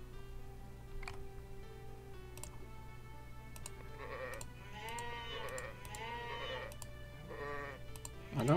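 Sheep in the farming game Hearthlands bleat in a cluster of several wavering, nasal calls over a steady low hum and faint clicks, the bleats overlapping and fairly close.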